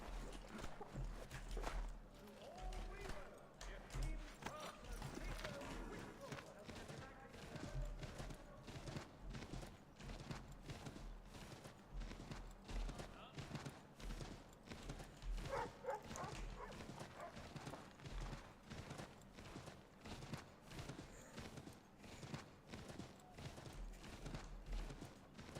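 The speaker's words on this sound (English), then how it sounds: "I may as well ride the horse." Horse hooves clip-clop during riding in the Assassin's Creed 3 video game, a continuous rhythmic trot with dog barks and game sounds mixed in.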